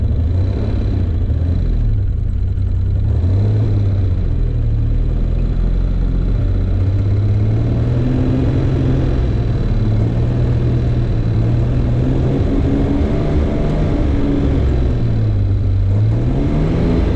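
A $500 Ford Ranger pickup pushing through a deep snow drift, its engine droning loud and close throughout, revving up and down in slow waves under constant low rumble, with no voices.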